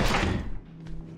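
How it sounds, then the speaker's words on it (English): A door slams in the horror video game Outlast, one loud, close thud with a heavy low-end boom that decays quickly into quiet room tone. "The door was loud"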